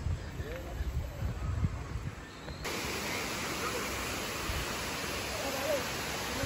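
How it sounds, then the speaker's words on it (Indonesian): The Kanching waterfall in a forest recreation park sends up a broad, steady rush of falling water. It is muffled at first under rumbling handling noise and then fills in louder and clearer for the rest of the stretch. "Tengok cantiknya air terjun dia. Air terjun Kancing."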